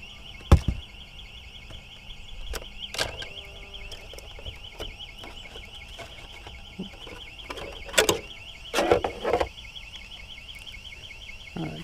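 A car alarm wails steadily in a warbling, repeating pattern throughout, with scattered thuds and clacks during an outdoor speed run of a Traxxas Bandit VXL radio-controlled car.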